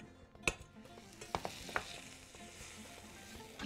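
Butter sizzles in a hot frying pan, a soft, steady crackle heard up close and alone, broken by a few sharp clinks of utensils against the pan.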